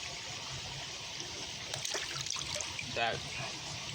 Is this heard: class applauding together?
no